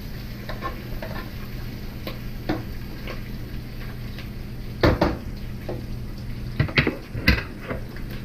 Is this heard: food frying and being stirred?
yes